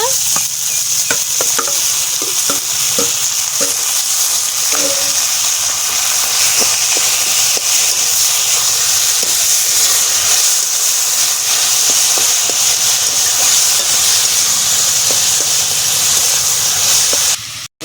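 Taro leaves and crab frying in a pan, with a loud continuous sizzle and hiss and repeated stirring scrapes and clinks, close and alone until it cuts off at the end.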